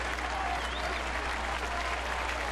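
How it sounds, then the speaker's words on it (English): A baseball crowd on its feet at a Detroit at Kansas City game, cheering and applauding for a strikeout; a dense, steady roar of clapping and yelling from a large stadium audience, moderately distant and continuous. "the Raw crowd is on their feet, they're the ones screaming for the strikeout"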